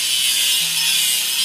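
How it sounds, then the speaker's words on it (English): Grinding a welded seam on a crane in a railway video game produces a loud, steady, high-pitched abrasive whine with a faint low hum underneath, continuous and close, with no talking. "And now let's grind the seam."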